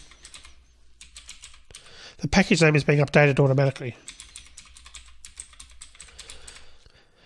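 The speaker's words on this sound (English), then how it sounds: "I start typing learnprogramming.academy" Computer keyboard typing in short quick bursts at the start and end, with someone talking at normal level through the middle while the keystrokes pause.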